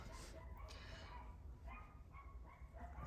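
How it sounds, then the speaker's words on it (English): Dogs bark repeatedly in the distance, faint yips and barks scattered through a noisy indoor background. "the dogs, when they go bananas here, they don't stop"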